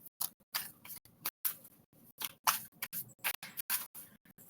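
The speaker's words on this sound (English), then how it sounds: "The cards don't even feel like they shuffling right now" A deck of tarot cards is shuffled by hand, with a rapid run of crisp, papery riffles and slaps in short irregular bursts, close and fairly loud, and no talking.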